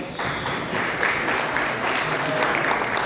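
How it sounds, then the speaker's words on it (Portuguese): Applause from an audience at a church room inauguration, with children called forward. The clapping is steady and sustained, fairly close and even in loudness for the whole stretch. "Uma salva de palmas."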